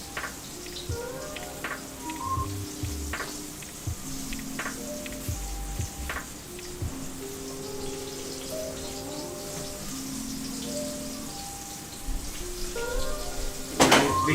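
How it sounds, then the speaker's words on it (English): Continuous crackling and sizzling of chicken frying in hot oil in a pan, with soft clinks and bumps of utensils scattered throughout. "while that is frying up on the first side"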